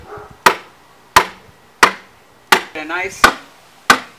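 Rebar is hammered into the ground beside a flower bed: six sharp metallic strikes land at roughly even intervals, loud and close, with a brief spoken remark between blows.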